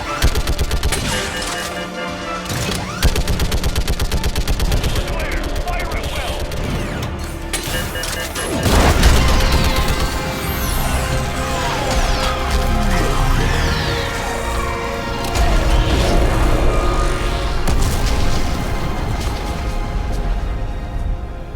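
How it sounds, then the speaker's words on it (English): Orbital strike in Mass Effect 3 Legendary Edition on Xbox Series X, a long barrage of heavy crashing impacts and rapid booming fire, loud and dense, swelling around the middle and staying intense to the end. "I need an orbital strike."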